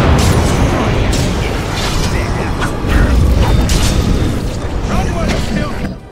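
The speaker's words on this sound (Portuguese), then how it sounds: "Essa explosão que acontece é quando o Anders usa a habilidade Corpse Virulent" Fireball explosion from a Walking Bomb ability in Dragon Age: Awakening, a loud, continuous roaring blast with crackling debris that sustains for several seconds before cutting off.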